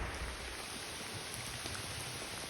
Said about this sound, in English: There's a lot of rain, man.